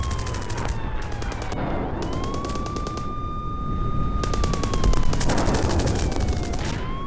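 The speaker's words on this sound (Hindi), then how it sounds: "दक्षिण लेबनान के हौला इलाके पर भारी बमबारी की गई।" Heavy bombardment of the Houla area in southern Lebanon during war: rapid bursts of gunfire-like blasts and crackling impacts come in repeated volleys, with a siren wailing steadily throughout and no voices.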